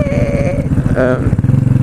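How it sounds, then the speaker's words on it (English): A motorcycle engine with a mechanical fault runs up close, its loud throbbing idle carrying a thin, high squeaky metallic whine on top throughout the short stretch. "I kind of hear like this squeaky kind of sound in the engine"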